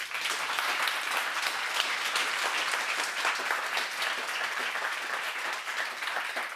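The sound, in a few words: audience applause at conference closing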